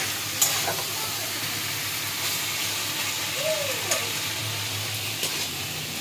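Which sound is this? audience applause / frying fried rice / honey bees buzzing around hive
frying fried rice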